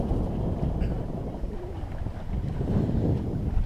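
Sailboat moving at about four knots in an eight-knot breeze on a calm, beautiful sea off Corsica, with steady wind rush and water wash filling the whole stretch at a constant, even level.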